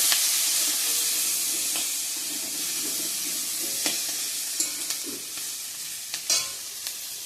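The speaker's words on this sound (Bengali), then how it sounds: "এদিকে মাংসের জন্য আলুটা ভেজে রাখছি" Potatoes frying in hot oil in a home kitchen make a steady, close sizzle and hiss, with a few faint clinks of stirring scattered near the end.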